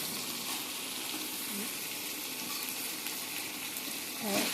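Broad bean curry frying in a pan with steady sizzling and bursts of stirring, close and continuous throughout, with no talk.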